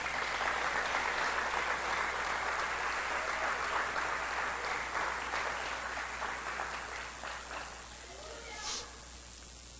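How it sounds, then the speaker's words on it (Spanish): A church congregation applauds during a service, steady clapping that runs continuously at moderate level throughout. "Denle un aplauso al Señor."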